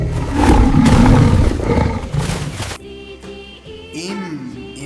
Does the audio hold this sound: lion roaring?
yes